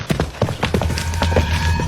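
Hooves clatter in quick, uneven beats as spooked horses run hurriedly, close and fairly loud over a low rumble.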